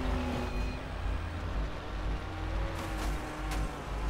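Car engine rumbles and revs in a driving video game, a steady low drone with a couple of brief hissing bursts near the end, no voices over it.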